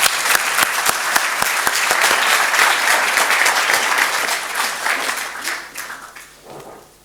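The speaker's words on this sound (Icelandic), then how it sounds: "Ég bið ykkur að gefa honum gott klapp honum Björgvin Inga Pétursinni." Audience applause at a university graduation ceremony at Bifröst, Iceland, welcoming a speaker: dense, loud clapping from a large crowd that holds steady, then gradually thins and fades out toward the end.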